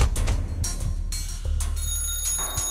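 A telephone rings repeatedly in the video game Calm Down, Stalin, sharp bursts of electronic bell tone recurring in an irregular rhythm over low background sound.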